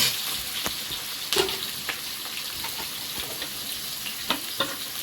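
Steady sizzling of Bengali five-spice (panch phoron) frying in hot oil with fried onions for chicken, with occasional sharper crackles and pops over a continuous hiss.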